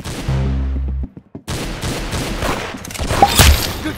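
Loud bursts of gunfire in a shooter video game: a rapid volley up front, a short pause, then scattered shots and a heavier crack near the end.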